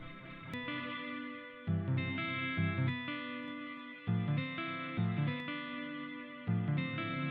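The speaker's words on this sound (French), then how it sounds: "Ensuite j'ajoute de la reverb, parce que je suis un grand fan de reverb." Layered electronic music with sustained tones and a lush, washy reverb tail smearing each chord into the next, played steadily with no voices.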